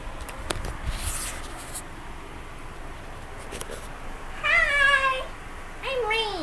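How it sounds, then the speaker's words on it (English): A pet cat meows indoors, two drawn-out, rising-then-falling meows near the end, clear and fairly close, after some quiet scraping and tapping sounds. "And that's my lazy kitty."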